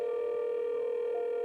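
A telephone ringback tone hums as a call is placed, one steady continuous tone held for the whole stretch with nothing else heard.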